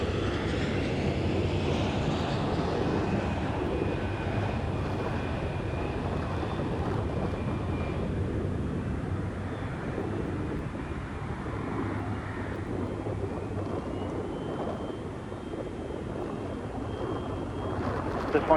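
A JetBlue airliner takes off from runway 22 right at Boston Logan, heard as a steady, broad roar of jet engines that slowly fades in the distance.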